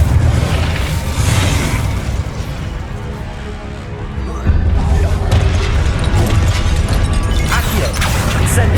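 The Incendio fire spell is cast in the Hogwarts Legacy video game, loud roaring blasts and crackling bursts over heavy continuous combat noise, with a brief lull midway before the rumble surges back.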